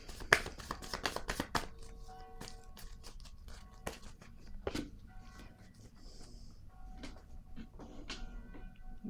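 Playing cards are shuffled for a surprise card draw, a rapid close riffle of crisp flutters and snaps, then quieter slides and taps of cards being handled.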